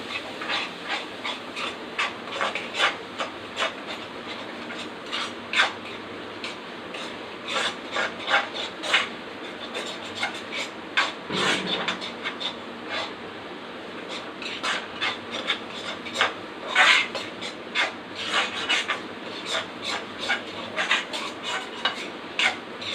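Egg and cluster bean stir-fry being stirred in a pan, a steady run of scraping and rubbing strokes from a spatula that continue without pause at close range, with no talking.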